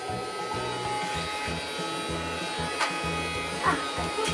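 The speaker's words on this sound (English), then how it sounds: "So Oscar, are you going to give Mummy's floor a bit of a hoover?" A Casdon toy Dyson Ball vacuum cleaner running over a floor with a thin, steady whirring hum and a rhythmic clicking rattle, while a faint voice speaks briefly under it.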